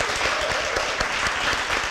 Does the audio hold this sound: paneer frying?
no